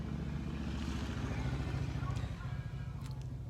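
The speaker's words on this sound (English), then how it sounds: "There's a motorcycle coming up the road." Motorcycle approaching along a road, a low steady engine drone that holds fairly loud and then eases slightly as it passes, heard at some distance.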